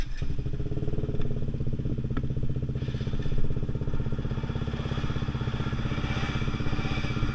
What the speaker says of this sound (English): Right, 50cc 2-stroke test.